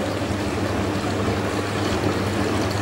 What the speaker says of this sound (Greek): Αδειάζουμε το νερό που κάναμε αποστήρωση στη μηχανή.